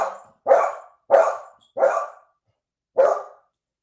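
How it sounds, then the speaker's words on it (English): A stubborn dog barks five times in a steady, loud series of sharp barks, with a brief pause before the last one; no talking. "He's a very stubborn, barky dog."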